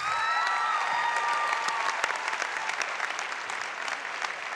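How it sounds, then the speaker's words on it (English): Steady, dense audience applause at a CGI U Commitments Challenge award event, loud and continuous throughout with a faint high tonal ring above the clapping. "So please give them another round of applause."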